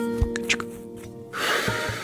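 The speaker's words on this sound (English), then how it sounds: "finding a new area brings us that kind of, cloud gasp. It's a wonderful sound there." A soft, airy cloud gasp plays on discovering a new area in the puzzle video game A Monster's Expedition, a breathy swell that rises after a few scattered soft chimes and lingers for under a second.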